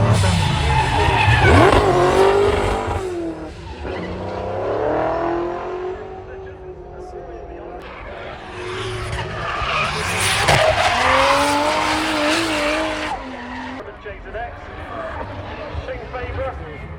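A drift car skids around the track at Castle Combe during a spring action day. Tires squeal in long sweeping bursts and the engine revs and rises close by, while a commentator talks over the action.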